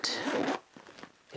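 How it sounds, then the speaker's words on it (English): A zipper runs briefly along a small white patent leather Dooney and Bourke Kiley handbag, one quick close, near and fairly loud, before a quiet stretch with faint handling. "it zips."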